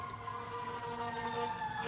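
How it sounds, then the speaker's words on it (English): A fire truck siren wails through a city street in a sustained, steady tone, moderately distant and fairly faint, with no voices. "that's definitely a fire truck"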